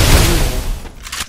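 An SVD Dragunov sniper rifle fires once in the mobile shooter game Free Fire, a loud sharp boom that decays over about a second.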